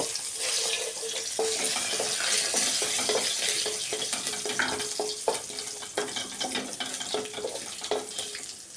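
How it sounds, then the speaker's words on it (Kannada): Curry leaves, mustard seeds and cumin fry in hot oil, a steady loud sizzle with dense crackling pops and spatters that thin out toward the end, no voices. "4 ಕಡ್ಡಿಯಷ್ಟು ಕರಿಬೇವನ್ನು ಹಾಕ್ಕೊಂಡು ನೀಟಾಗಿ ಇದನ್ನು ಫ್ರೈ ಮಾಡ್ಕೊತೀನಿ"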